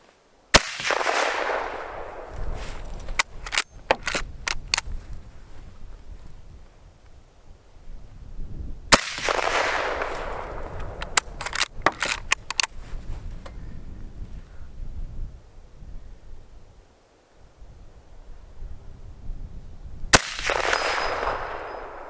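Mosin Nagant rifle shots ringing off a steel target, three loud blasts each followed by a long decaying metallic clang and scattered sharp pings, with quieter gaps between shots.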